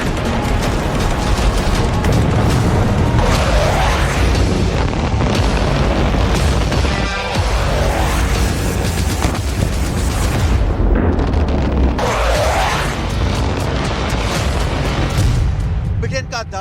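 British Storm Shadow cruise missile explosions come as loud, continuous booming blasts with deep rumble, and several swelling roars recur throughout.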